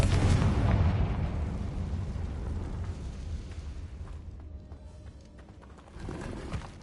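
Confringo explosion spell cast in the video game Hogwarts Legacy: a deep rumbling boom at the start that slowly decays into a fading low roar, followed by a quieter swell near the end.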